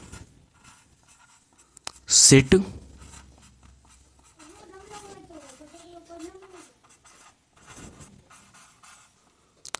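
A math expression is written on a classroom board in a short burst of scratchy strokes, followed by faint, quiet talk.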